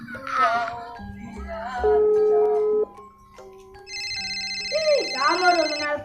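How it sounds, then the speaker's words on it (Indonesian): A telephone rings while a call is placed, giving a steady electronic ring tone amid several voices and other brief tones, fairly loud and near. "Aing telepon si Anes bae lah."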